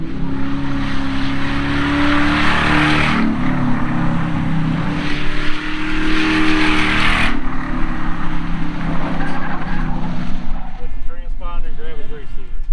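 A race car heads out on track for laps, its loud engine roaring steadily and rising and falling as it passes, with people talking over it.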